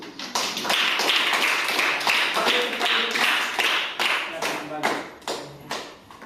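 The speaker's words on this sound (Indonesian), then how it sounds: "Tepuk tangan dulu." Classroom clapping from a group of students after a presentation, a lively mix of individual claps at moderate loudness, tapering off toward the end, with some voices mixed in.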